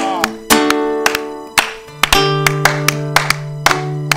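A church congregation at a worship service claps in steady rhythmic unison, sharp close claps repeating about twice a second, with sustained organ-like keyboard tones held beneath.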